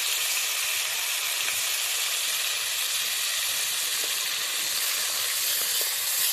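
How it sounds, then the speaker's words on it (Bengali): A live rohu fish frying in a hot iron wok produces a steady, loud broadband sizzle and hiss that holds evenly throughout, with no talking. "মাছটা জ্যান্ত মাছ বলে দেখুন ভাজাটা আলাদা হচ্ছে"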